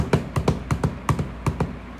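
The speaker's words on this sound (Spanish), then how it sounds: "el trotar de un caballo" Horse hooves trotting in a radio drama soundscape: about a dozen crisp, close knocks in an uneven clip-clop rhythm, alone with no talk.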